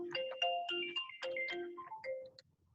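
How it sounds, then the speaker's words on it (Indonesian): Mobile phone ringtone playing a bright, melodic sequence of electronic notes, quiet and clear with brief pauses between phrases, fading out near the end, with no talking. "handphone saya bunyi"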